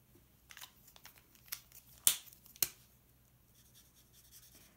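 Marker or felt pen colouring a snail's body in light brown on a greeting card, giving a quiet scratchy rustle of short strokes with a few sharper taps and scrapes, close and soft with no talking.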